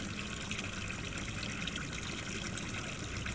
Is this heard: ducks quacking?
no